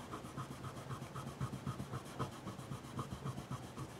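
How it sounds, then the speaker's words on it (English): Frets on a Dean Dime Razorback electric guitar are buffed with polishing compound, giving a close, quiet, steady rubbing with short repeated back-and-forth strokes. "got a little bit of polishing compound, and I'm just hitting these frets"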